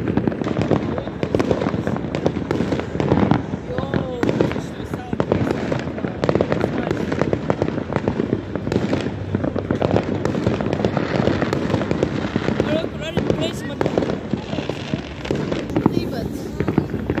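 Continuous crackling and popping of New Year's Eve fireworks over a city, a dense, noisy barrage heard mostly from a distance, with people chatting throughout.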